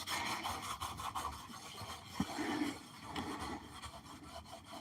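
Coarse green scouring sponge rubbed back and forth against an oven's interior, a faint, rhythmic rasping scrub with repeated strokes close by.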